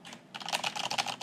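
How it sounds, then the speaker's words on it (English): Computer keyboard typing up close, a quick rapid run of crisp key clicks and taps after a brief quiet start, with no voices. "Zoom in on keyboard and hands typing"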